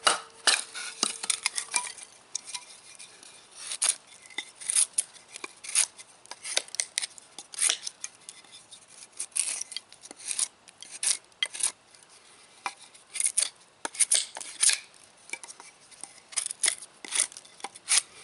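Irregular crisp scraping and cutting clicks as a small knife blade works into knotty wood, sharp bursts scattered through quiet gaps, close by with no talk.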